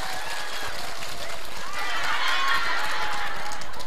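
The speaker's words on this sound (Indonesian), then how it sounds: "Tepuk tangan dulu dong buat panitianya" Audience applause for the organizers at a Maulid Nabi religious gathering, a steady dense patter of clapping from a large crowd sustained for several seconds.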